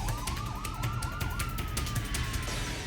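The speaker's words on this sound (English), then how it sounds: "Sirens blowing, the ambulances coming." Ambulance sirens wail in a rising and falling tone, loud and continuous over background noise, with rapid yelping sweeps overlapping a longer wail.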